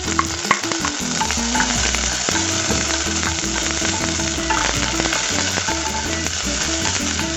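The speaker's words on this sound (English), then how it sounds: "Next, you want to saute also probably a little bit of your onions." Ginger, garlic and onions sizzle and fry steadily in a pan for congee, a loud, dense, continuous crackle with faint stirring clicks, close up and with no voices.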